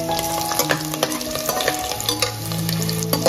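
Garlic and whole spices sizzling in hot oil while being stirred, with a steady crackling fry and frequent clinks and scrapes of a spoon against the pan, close and without any voices.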